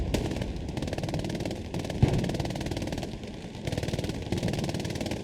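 Machine gun fire in the video game Hell Let Loose comes in loud rapid bursts, one after another, with short pauses between them and no talking.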